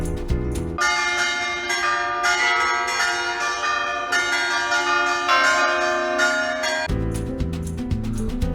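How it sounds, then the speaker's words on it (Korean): Church bells ring loudly from a church across the street in Lisbon, with overlapping metallic strikes and long ringing tones that sound continuously and close throughout. "건너편 성당의 기괴한 종소리가 들리던 방이었다."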